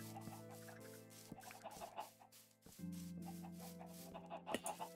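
Minecraft chickens clucking in a Bedrock chicken-breeding world, a string of short, quiet clucks and squawks repeating over a faint steady game background tone, with no talking.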